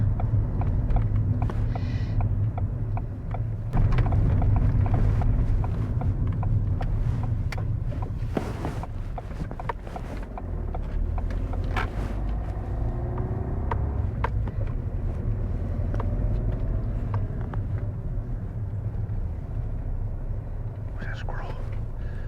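A car drives along with a steady low engine rumble that swells as it accelerates, close and continuous, with people talking quietly over it.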